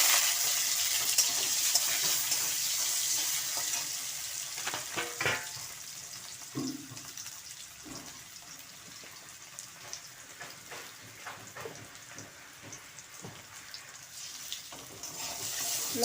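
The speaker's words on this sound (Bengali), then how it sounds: "লবণ হলুদ দিয়ে আলুটা ভেজে নিচ্ছি।" Potatoes seasoned with salt and turmeric fry in a pan for a soyabean curry, giving a soft steady sizzle broken by a few scraping stirs, faint and close with no talking.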